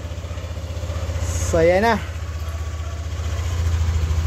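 Yamaha Nmax V2 scooter engine, which has an odd creaking and whistling noise, idling steadily and loud throughout with a low pulsing rumble, while someone speaks briefly over it.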